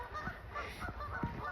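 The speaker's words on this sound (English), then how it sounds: "my duck and geese family are still in the water" Geese honk from out on the water on a snowy day, with several faint calls spread over a steady outdoor background hiss.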